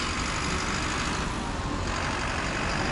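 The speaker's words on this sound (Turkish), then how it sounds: "şu kamyon geçsin de" A truck passes on the road with a loud, steady roar of engine and tires, a broadband rumble that fills the whole stretch without a break.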